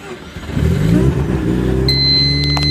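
A 1989 Mazda RX-7 Turbo II rotary engine idles cold with a steady, loud low rumble and an extra high whine joining partway through, with no voices.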